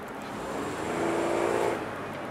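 A 2002 Ford Windstar LX minivan engine is pushed to wide open throttle, a close, rough roar that swells and peaks briefly before easing back.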